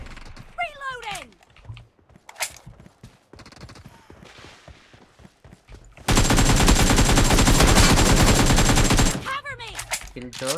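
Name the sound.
gunfire in a video game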